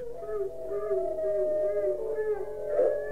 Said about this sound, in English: At the sound of its death shriek, the pack raised howls of delight.